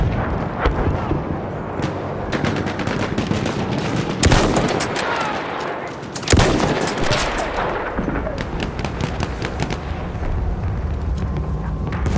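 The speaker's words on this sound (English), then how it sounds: "Machine gun over there!" A machine gun firing in Battlefield 1 during an operations battle: loud, rapid bursts of automatic fire with heavy booms at two points, set against constant distant gunfire and rumbling explosions.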